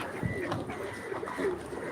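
A pigeon coos in soft, low repeated calls, close by, over faint background noise.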